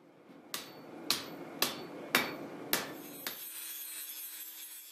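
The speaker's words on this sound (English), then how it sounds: "Creating the bevel was a painstaking process of hammering on the edge while maintaining the curve of the blade." Hammer blows strike the edge of a heated steel blade to form its bevel, six sharp ringing metallic impacts at a steady, roughly half-second rhythm, the last one softer, then a quiet ringing tail.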